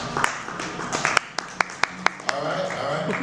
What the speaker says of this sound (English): By round of applause.